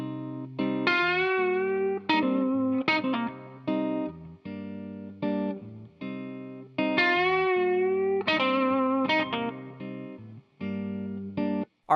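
Blues electric guitar lick with a distorted, effects-laden tone, played over a rhythm track; phrased bends and repeated note runs ring out loud and steady with brief pauses between phrases.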